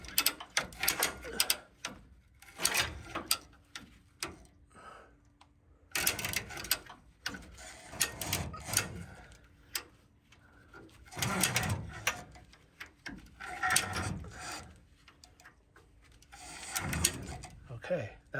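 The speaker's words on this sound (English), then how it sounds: "So I have a come along, as you can see, and let's see if we can't" Come-along being ratcheted to pull a 2006 Dodge Ram 2500 rear axle into position, repeated bursts of metallic clicking strokes in an irregular rhythm, close and fairly clear.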